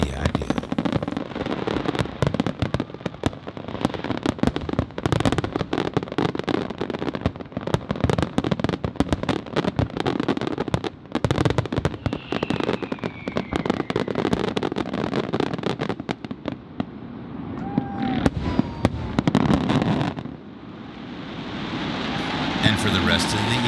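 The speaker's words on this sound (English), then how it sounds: "it's even better this way, like having our own private fireworks show" Fireworks bursting in a rapid, dense string of crackles and pops, with sharp transients continuing for over twenty seconds, followed by quieter scattered bangs and a few whistling rises near the end.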